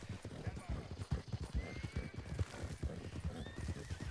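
Galloping horse hooves in the Western video game RedM clip-clop in a fast, steady rhythm, with a horse whinnying and voices talking over the pounding.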